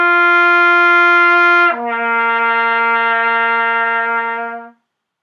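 A brass instrument plays a clean, steady G and then drops without a break to a C a fifth lower, the first note tongued. Both tones are held, close and clear, and they stop abruptly with nothing else heard.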